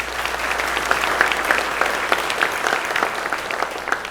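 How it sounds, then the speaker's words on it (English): Audience applause at the Legends of the Outdoors Hall of Fame 2022 induction ceremony, a moderate, steady patter of many hands with scattered sharper claps, continuing evenly throughout without talk. "Give them a big round of applause."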